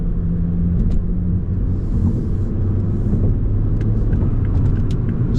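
A 2024 Toyota Supra driving without sport mode, its engine a steady low rumble with road and cabin noise, continuous and fairly loud throughout with no talking.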